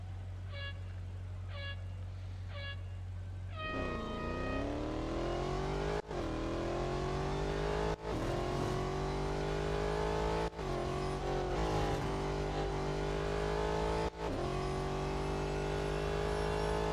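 Real Racing 3 video game autocross race at Melbourne: three countdown beeps over a low idle, then the car engine revs hard and climbs through the gears, with repeated sharp shift drops and rising whine.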